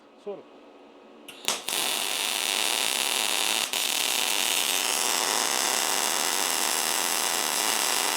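A Jasic MIG welder at 130 amps welds 1.5 mm sheet metal, starting with a brief click and sparky flash, then a loud, steady crackling hiss that runs continuously to the end.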